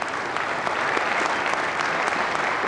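A studio audience on an Irish television talk show applauds steadily, a dense, even wash of clapping that holds at full strength throughout.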